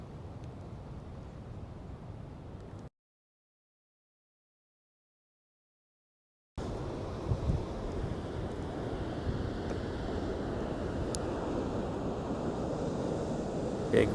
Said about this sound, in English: This part of Australia has some monster ocean waves that I've seen.